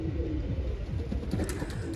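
Soft, low pigeon coos repeat in a steady rhythm nearby during rain, with faint hiss in the background and no voices.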